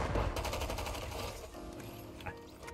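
Gunfire in an online shooter video game, a rapid burst of automatic shots rattling for about a second then fading into quieter game noise, fairly faint overall.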